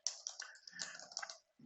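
Keystrokes on a computer keyboard, rapid and irregular, as someone types commands into a networking lab, close and fairly faint with a short pause near the end.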